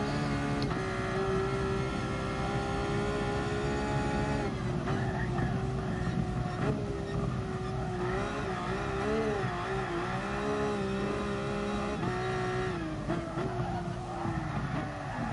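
A car drifting around the Nordschleife in GT Sport, with a loud, continuous engine whine that rises and falls through revving gear changes over sustained tyre squeal, steady and close throughout.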